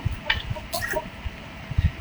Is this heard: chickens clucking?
yes